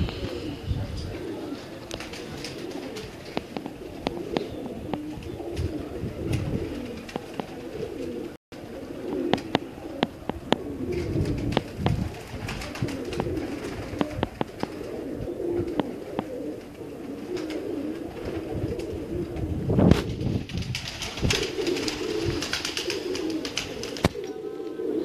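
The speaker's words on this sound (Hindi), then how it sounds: "उस्ताद जी के सीज़न के लिए कबूतर तैयार हैं" Pigeons coo on the rooftop of Ustad Zaheer of Kasur, soft repeated calls rising and falling over a murky background with occasional rustles and thumps.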